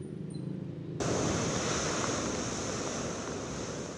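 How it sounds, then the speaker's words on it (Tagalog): Ocean waves off the coast of Ilocos Sur in stormy weather rumble in a dense, steady roar that suddenly swells louder and stays heavy, with wind noise on the microphone. "nangangalit at naglalakihan ang mga alon sa dagat sa Ilocos Sur"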